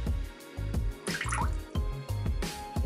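Coffee poured from a spout down the side of a beer fermenter into oatmeal stout, a close trickling and dripping flow with small splashes and a low background hum.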